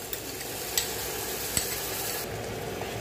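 Masala spices with tomatoes and salt are stirred and fried in a pan for an egg tadka, giving a steady soft sizzle broken by a few light scraping clinks of the spoon.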